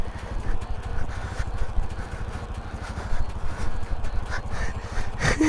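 A motorcycle engine labouring on an off-road climb, a close, continuous throbbing drone with rhythmic pulsing that swells and dips as the bike struggles uphill.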